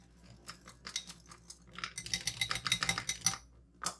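A spoon stirs a thick, sticky gummy candy mixture in a pot just taken off the stove, giving a run of close scraping and clinking strokes that grow busier toward the end.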